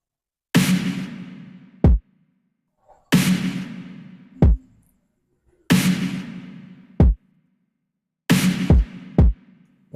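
A programmed drum groove built in FL Studio for a sad R&B-style beat: four repeating bars of a clean hit with a decaying wash, each closed by a sharp low kick-like thump, played alone with no talking.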